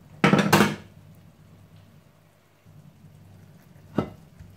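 A homemade pan-cooked pizza is sliced on a board, a loud crunchy cut of about half a second followed by quiet, then a second short sharp cut near the end.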